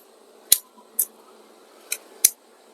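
Scissors snipping leaves off an oleander (karabi) plant cutting: four sharp, crisp clicks spaced unevenly, close and clear against a quiet background.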